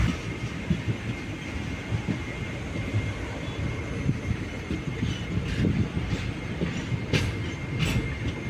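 Steady rumble and rattle of the Madurai-Punalur Express running, heard from inside a coach, with continuous low clatter, wheel noise and occasional sharper clicks throughout.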